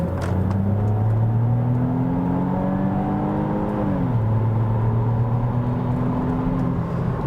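A Saab 9-3 Aero, a 2000s Swedish sports sedan, pulls hard from inside the cabin, its engine note climbing steadily and then settling after a shift, over a constant loud drone of tire roar.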